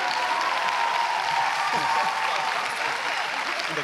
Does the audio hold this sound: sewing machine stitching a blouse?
no